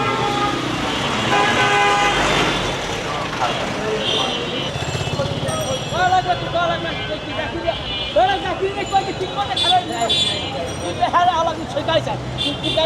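Busy street traffic in Bangladesh is heard close by, with engines running, repeated honking horns and a crowd murmuring, while someone talks over it throughout.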